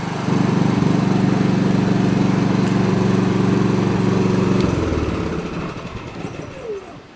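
A Philking PK4200ie2r generator engine runs loud and steady with a low droning hum, then winds down and fades over the last couple of seconds.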